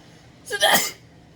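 A single short, sharp sneeze bursts out close by during an indoor food tasting, with quiet room tone before and after.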